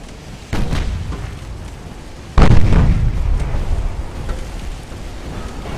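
Torpedo hits on a warship in the naval game Ultimate Admiral: Dreadnoughts come as two heavy booming explosions, a softer one first and a louder, deeper blast that rumbles on afterward.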